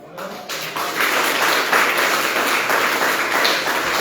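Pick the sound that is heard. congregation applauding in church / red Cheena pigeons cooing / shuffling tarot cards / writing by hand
congregation applauding in church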